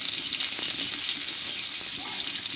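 Potatoes with turmeric and salt frying in a pan, a steady close hiss of sizzling oil with faint stirring touches throughout and no talking.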